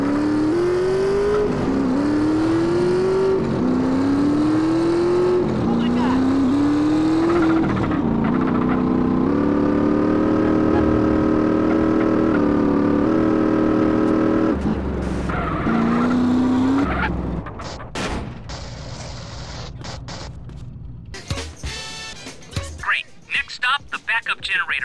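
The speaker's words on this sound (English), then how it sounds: "we're en route in the armored truck" Armored truck driving in GTA San Andreas, a loud continuous engine note rising and falling through gear changes with tire skids and squeals, ending in scattered impacts and clatter.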